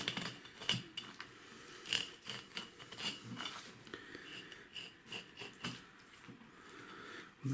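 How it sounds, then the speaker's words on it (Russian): A knife slices rib bones away from a zander fillet, giving irregular faint scraping and crisp snipping clicks at close range, with small clatters and no talking. "Все, теперь нужно срезать ребрышки."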